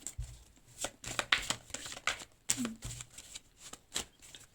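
Oracle cards riffle and slap in quick irregular bursts of crisp shuffling, close and fairly quiet, with brief pauses between handfuls.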